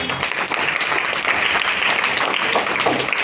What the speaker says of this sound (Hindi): इनके लिए भी तालियां